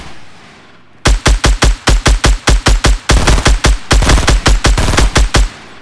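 Video-game gunfire aimed at a player's build: rapid, evenly spaced automatic bursts, loud and close, breaking into a steadier faster stream partway through, with no talk.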